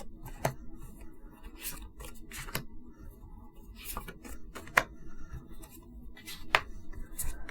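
Soft shuffling, sliding and tapping of tarot cards being drawn by hand, a few sharper card snaps standing out against quiet room tone.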